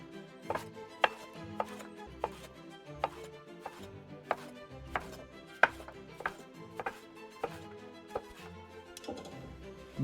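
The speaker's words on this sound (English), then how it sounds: "let's cut the zucchini" A knife chopping zucchini on a cutting board, with crisp, fairly regular knocks spaced roughly half a second apart, close and clear with a few sharper strikes, and no talking.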